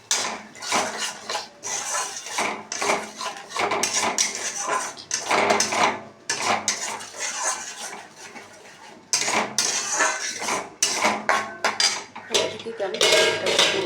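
Milk whisked in a bowl for a vegetarian potato curry gravy, rapid clinking and scraping of utensil against dish in irregular bursts, close and fairly loud, with brief pauses and no talk.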